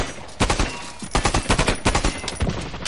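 A configured pistol fires rapidly in the shooter game Blacklight: Retribution, sharp close shots in quick bursts of about a dozen, with brief gaps between volleys.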